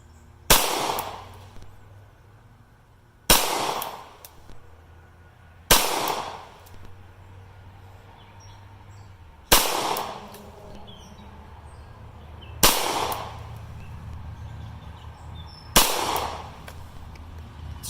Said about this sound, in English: Let's see if we can hit some of the other bullseyes on this target out here.